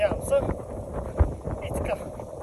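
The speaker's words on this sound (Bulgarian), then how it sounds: "Много духа, извинявам се." Gusty wind buffets the microphone with low rumbling thumps and rushing noise, and a voice speaks over it.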